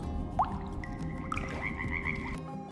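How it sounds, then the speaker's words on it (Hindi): Frogs living in a well croak in an animated story scene, with a short squelch followed by a run of rhythmic, ringing croaks over a steady ambient background. "उस कुएं में मेंढकों का राजा गंगदत्त अपने परिवार और सगे संबंधियों के साथ रहता था।"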